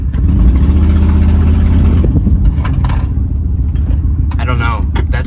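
A rough-running Ford Expedition engine revs hard at full throttle with a deep, loud roar that drops away after about two seconds into a lower idle rumble, followed by a brief voice near the end.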